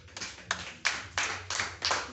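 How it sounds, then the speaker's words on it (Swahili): A small group applauds in bursts at a stress-management session, with several short rounds of hand clapping that start and fade, fairly close and moderately loud, with no talk over them. "Mmoja watu wanajaribu tunawapigia makofi."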